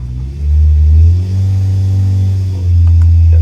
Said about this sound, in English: The drive shaft's rattling, that's not too good, that.